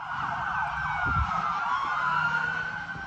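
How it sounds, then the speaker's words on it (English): Wailing police sirens rise and fall continuously, fairly loud and overlapping, with a short low thump partway through. "I heard lots of sirens going off."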